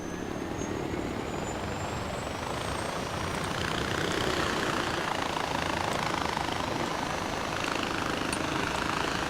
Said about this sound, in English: I'm going to start you off with a little helicopter action